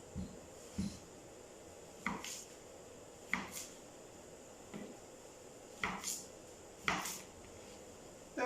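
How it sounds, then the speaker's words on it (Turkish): Sparse knife chops through cucumbers on a cutting board, irregular single thuds a second or so apart, over a quiet room with no talk. "Evet, salatalıklarımızı doğruyoruz."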